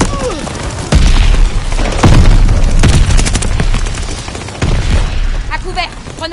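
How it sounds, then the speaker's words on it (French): Allied mortar fire in Call of Duty Vanguard lands in a run of loud, close booming explosions, several heavy blasts spaced over a few seconds with crackling gunfire in between. "Tir de mortier allié en approche"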